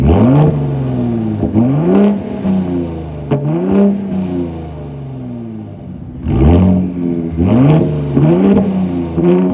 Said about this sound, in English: Let's get you some revs from that V6 exhaust in Baja mode